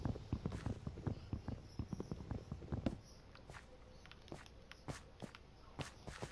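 Horse hooves clip-clop in Minecraft as a steady run of close, sharp, evenly paced steps, loudest early on and lighter and sparser later, with no talking over them.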